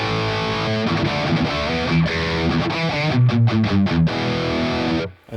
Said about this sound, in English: This is the sound of the reference amp.